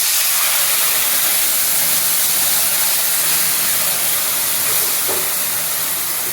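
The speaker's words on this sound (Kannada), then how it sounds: "ನೋಡಿ ಮೂರು ಸೋಟು ಹುಣಸೆ ಹಾಕಿದೆ ಹುಣಸೆ ಹಣ್ಣು ಕುದಿಬೇಕು" Tamarind poured into hot oil in a pan, giving a loud, continuous hissing sizzle and bubbling boil that holds steady throughout, close up with no voices.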